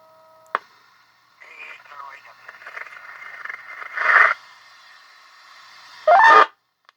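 A Heathkit HW-17 2 meter transceiver plays received audio through its speaker: a sharp click, then thin, band-limited radio sound with brief louder bursts and gaps of near silence.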